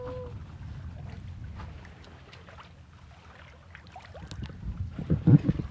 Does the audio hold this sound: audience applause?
no